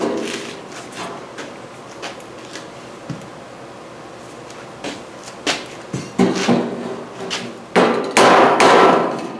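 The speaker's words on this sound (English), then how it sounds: "I'm just going to start hammering that lip down to about a 45" Sharp metallic hammer strikes on the sheet metal door skin of a 1968 El Camino ring out at an irregular pace, some light taps and some heavier blows, growing louder and denser toward the end.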